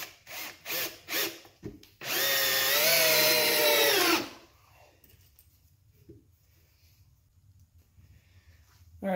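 A power drill whines through a long steady burst of about two seconds as it drives a screw into wood at an angle, preceded by short bumps and followed by quiet room tone.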